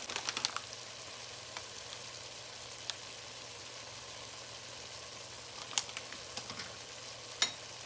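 Allspice powder and hot pepper frying and being stirred in a pot of hearty farm chicken stew, a faint, steady sizzling hiss broken by a few light spoon clicks.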